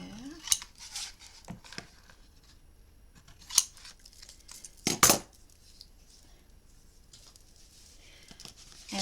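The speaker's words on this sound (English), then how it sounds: "I'm going to snip off the corner there." Scissors snipping the corner off a hardcover notebook cover, a few sharp, isolated cuts spaced apart, with one louder snip near the middle amid quiet handling rustles.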